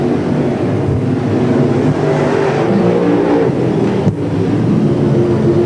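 Sedan race cars roar around the Newcastle Motordrome during the 1988 NSW Grand National Sedan Championship. Their engines form a steady, loud drone that swells and shifts as the cars pass, with no talk over it.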